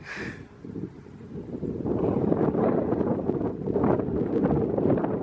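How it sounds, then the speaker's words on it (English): Steady wind buffeting the microphone at night at the Yuma Territorial Prison cemetery, a broad rushing roar that grows stronger after the first couple of seconds and holds. "And it is still windy."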